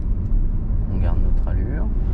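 Car engine rumbling steadily through a driving lesson as the driver shifts up into third gear, with a brief rising then falling whine in the middle; an instructor speaks over the engine noise.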